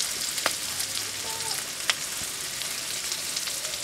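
Turmeric, coriander and chili powder sizzle steadily in hot oil in a pan for a fish curry with green tomatoes, with a few sharp scrapes and clinks as the spices are stirred, close and continuous.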